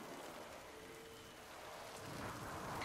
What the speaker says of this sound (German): Ist das nicht schön, im strömenden Regen spazieren zu gehen?